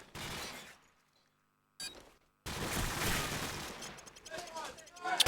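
Gunfire from a Call of Duty 4 match plays in loud bursts broken by a short silence, with heavy overlapping shots and some mechanical clicks. A commentator's voice may run faintly under it.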